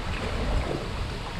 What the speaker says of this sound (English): this wind's certainly going to make for an interesting trip